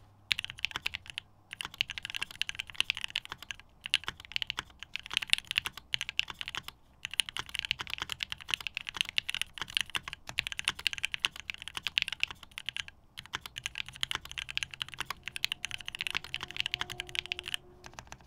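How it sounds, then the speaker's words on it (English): Steady, fast typing on a Blue Hive60 mechanical keyboard build with copper and NK Yellow switches, continuous close clacking with a few brief pauses and no voices. "Do you want to hear the keyboard"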